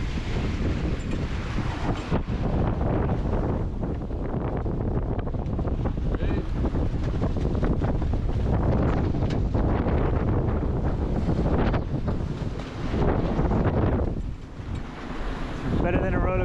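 Strong wind buffets the microphone while a motorless skeleton sailboat surfs huge ocean waves, a loud continuous roar of gusts and rushing water with faint voices underneath.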